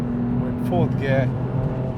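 A BMW M4 Competition accelerates hard in fourth gear, its engine note a steady droning hum heard from inside the cabin beneath someone talking.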